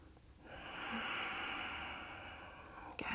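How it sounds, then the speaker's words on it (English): Deep, slow breath held in a long steady exhale during a yoga locust pose, close and soft, ending with a quick sharp intake, no talking. "Keep breathing."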